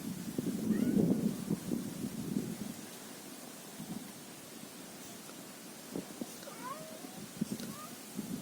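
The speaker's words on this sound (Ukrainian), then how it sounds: "А що ти кричиш, як дикий кіт?" A cat lets out a loud, low, drawn-out yowl, then keeps making quieter, intermittent cries and chirps against faint outdoor background noise.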